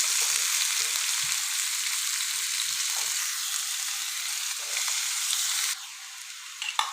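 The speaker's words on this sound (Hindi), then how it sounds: "ऑयल गर्म हो जाए तो हमारे पास एक बड़ा प्याज है कटा हुआ, बारीक चॉप किया हुआ, ये डाल देना है।" Finely chopped onion, one large one, spread into hot oil in a pan, frying with a steady, dense sizzle and occasional stirring scrapes, close and continuous, easing slightly toward the end.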